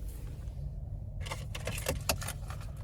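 The key fob of a 2024 Nissan Rogue S jangles briefly and quietly up close, a short burst of metallic clinks over a steady low hum.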